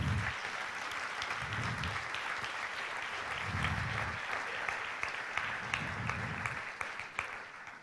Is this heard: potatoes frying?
no